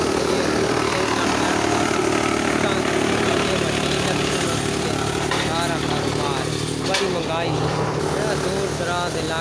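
A tractor engine runs with a continuous steady drone in a Pakistani village, loud and unbroken throughout, with some background sounds over it.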